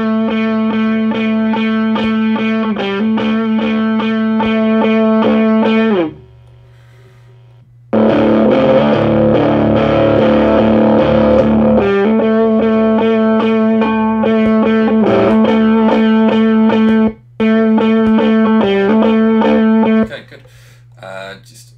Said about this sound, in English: Okay, so guitar. We'll put in electric guitar.